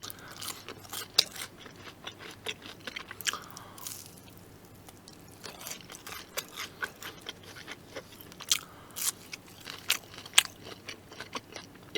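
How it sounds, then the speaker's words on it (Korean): Close, quiet chewing of a cheese stick dipped in chili sauce, with soft bites, squishy crunches and moist mouth sounds in irregular bursts, with no talking. "치즈 스틱을 이 칠리 소스에 찍어 먹으니까 되게 맛있는데?"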